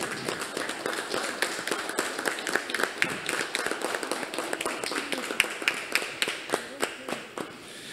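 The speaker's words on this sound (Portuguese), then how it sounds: "eu gostaria aqui de pedir uma salva de palmas para a doutora Ângela" Audience applause at a high-level public hearing on the family, sustained clapping with sharp, distinct claps, moderately loud and steady throughout, with no talk over it.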